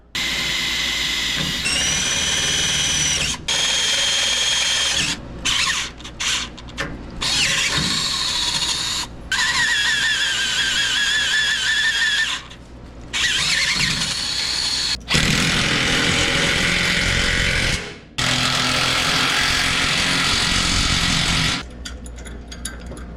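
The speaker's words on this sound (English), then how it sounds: "So I'm going to go ahead and drill a hole right there." A power drill runs in repeated loud bursts, whining and grinding as it bores a hole during a sway bar install on a squarebody truck, with brief pauses between runs and a squealing pitch under load.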